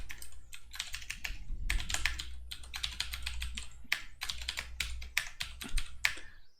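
Rapid, steady typing on a computer keyboard while writing PHP code, dense bursts of close key clicks with brief pauses, alone without talk.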